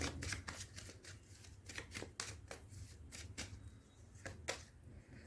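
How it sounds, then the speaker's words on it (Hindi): Tarot cards are shuffled close by, with quick riffling bursts and soft slaps repeating in an uneven rhythm at a fairly quiet level, and no voices. "चलिए यहाँ पे कुछ कार्ड्स लेते हैं"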